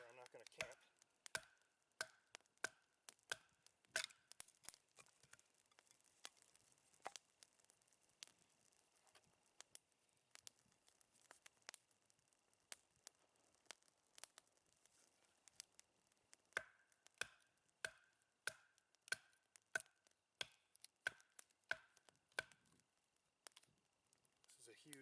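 A Bark River Bravo Survivor CPM 3V knife splits firewood into smaller chunks, giving sharp, irregular knocks and taps in quick bursts, fairly quiet and close, with a lull in the middle.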